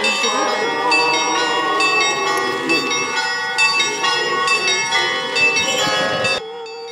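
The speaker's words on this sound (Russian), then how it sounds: "Под торжественный звон колоколов люди из храма выходят на улицу." Church bells ring continuously in a dense, overlapping peal as people leave the church, loud and steady, before stopping abruptly near the end.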